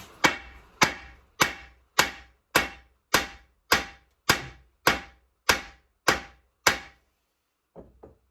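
A soft hammer strikes a buckled alloy wheel from a Ford Transit Custom eleven times at an even pace, each blow a heavy thunk with a short ring, followed by a pause and two lighter taps at the end.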